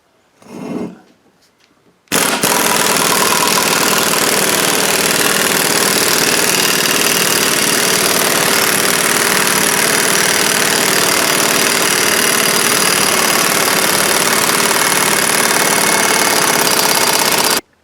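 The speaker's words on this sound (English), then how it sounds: "Stick the impact on our threaded shaft." Impact wrench driving a threaded press shaft to seat a ball joint on a Ford F250/F350 Super Duty 4x4: a steady, loud, close rattling hammer that runs continuously for about fifteen seconds after a brief faint sound at the start.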